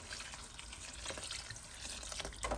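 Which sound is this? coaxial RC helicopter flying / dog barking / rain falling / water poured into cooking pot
water poured into cooking pot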